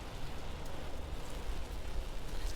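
Steady rain hisses on a street in Burslem, a dense, even wash of noise with a few faint drops standing out, and no voices.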